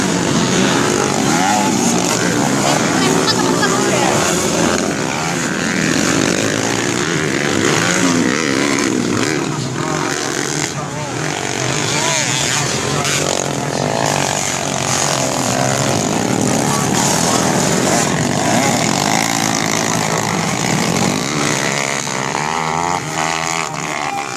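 Motocross motorcycles race on a beach circuit at Prigi, engines whining and revving loudly and continuously as several bikes pass, with a commentator's voice mixed in.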